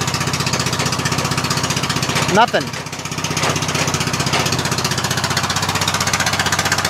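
A Murray lawn tractor engine runs steadily with a loud, rapid, chugging pulse throughout. Someone speaks briefly over it.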